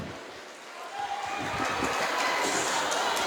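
An audience at a radio contest final applauds and cheers, a wash of clapping and shouts that swells from a quieter start and holds loud to the end.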